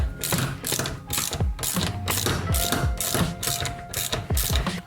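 Ratchet wrench snugging lock nuts on the motor mount of an electric skateboard with a 63mm motor, a steady run of close, loud clicking strokes repeating about twice per second with no talk.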